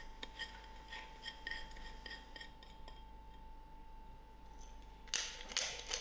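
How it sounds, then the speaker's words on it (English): Black pepper ground from a mill over lamb mince for mini kebab pies makes soft, rhythmic ratcheting clicks, then a few louder gritty crunches at the end, all fairly faint in a quiet kitchen without speech. "A grind of black pepper."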